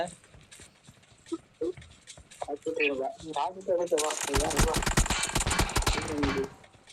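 Rapid bursts of gunfire from the PUBG video game, in the BGMI mobile version, erupt partway through and keep rattling densely for several seconds, loud and close, while someone talks excitedly over them.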